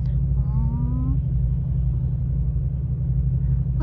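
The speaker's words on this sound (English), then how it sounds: "Oh, he's revving." A motorbike at traffic lights revs briefly with a short rising whine over the steady low rumble of idling road traffic heard from inside a vehicle.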